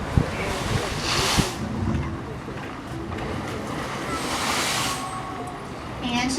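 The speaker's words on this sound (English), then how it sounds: "she's going to be doing some splashes" A killer whale splashes at a SeaWorld San Diego show, sending broad washes of water at about 1 and 5 seconds over steady outdoor ambience, with a voice talking.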